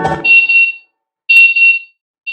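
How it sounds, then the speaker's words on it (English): An Airbolt smart lock's anti-theft alarm sounds in two loud, sustained high electronic beeps with a short gap between them, and a third beep starts at the end. A brief burst of other noise comes just before the first beep. "you can set your airbolt to activate an alarm when it moves too far away from your phone"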